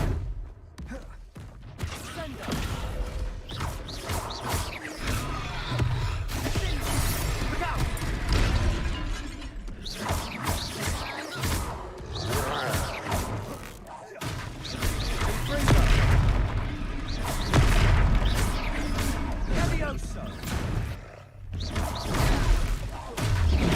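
Confringo explosive spells blast during a fight in the Hogwarts Legacy video game, with repeated booming, shattering impacts in a dense, continuous battle mix and occasional in-game voices.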